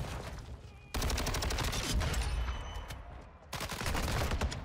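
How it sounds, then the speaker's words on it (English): Gunfire in the Modern Warfare 2 gun game mode comes as loud, dense bursts of automatic shots with a short lull between volleys, and the sound is continuous and close. "I'm not sure who's shooting me half the time."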